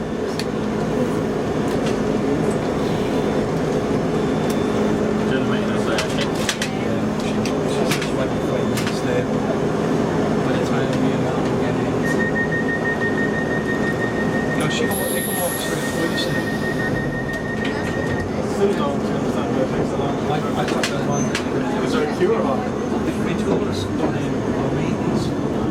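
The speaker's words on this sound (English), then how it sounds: "This is a Piccadilly line service to Rayners Lane." A London Underground Piccadilly line train runs loud and steady, with a broad rumble throughout. Brief squeals and a sustained tone come partway through, under announcement-style speech.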